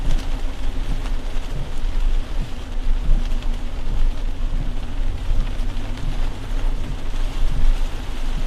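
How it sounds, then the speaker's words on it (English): Rain falls steadily on a storm chaser's camera lens during severe weather in Wisconsin, a continuous close patter with low rumbling underneath and no voices. "Let me see if I can clear some of this rain off."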